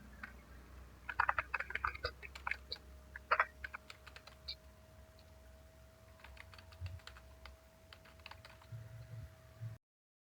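Bursts of typing on a computer keyboard as a prompt is entered, quick irregular key clicks clustering in short runs with pauses between, close and fairly quiet, with a faint steady tone and low background hum underneath.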